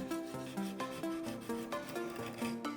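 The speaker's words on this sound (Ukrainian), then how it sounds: "Далі беремо абразивне волокно і за допомогою нього заматовуємо корпус." Close, rhythmic rubbing of abrasive fiber pad across a plastic remote-control toy car body to matte it before painting, brisk repeated scrubbing strokes with a scratchy, slightly tonal squeak, no talk.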